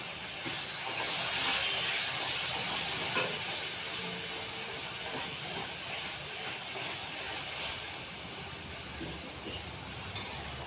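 A little water hisses and spits in hot oil while cooking Bengali tel koi, a continuous broad steamy sizzle lasting throughout, with faint clinks in the background.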